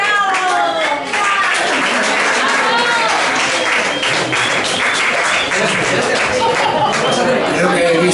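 An audience at a live acoustic concert in A Coruña gives loud, sustained applause after a song, with cheering voices and crowd chatter woven through the dense clapping.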